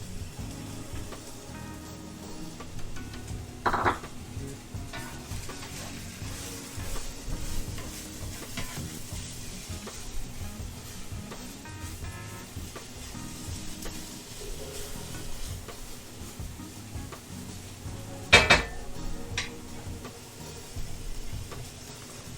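Carrots and mushrooms sizzle steadily in a hot pan, with occasional scrapes and clacks of a stirring utensil over a constant frying hiss, close and without talking.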